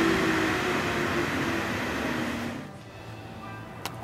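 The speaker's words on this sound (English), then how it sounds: "I'm going to use a bead blaster." A bead blaster hisses steadily while cleaning Mazda RX3 brake calipers, a broad rushing blast that runs for a few seconds and then cuts off, leaving a quieter hum and a single small click.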